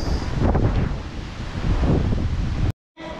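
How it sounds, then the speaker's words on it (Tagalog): Typhoon-force wind on Burias, Masbate, Philippines, roars and buffets the microphone in heavy gusts, loud and continuous, then cuts out abruptly for a moment before resuming. "So napakalakas po ang hangin dito."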